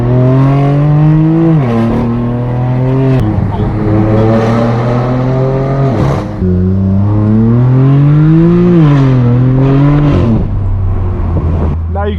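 A straight-piped BMW M4 cruising Beverly Hills streets blares a loud, raspy exhaust note close by, rising and falling through repeated revs and gear changes across the whole stretch with no pause.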